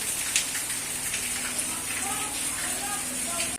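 Heavy rain pours in a dense, continuous hiss, loud and unbroken throughout.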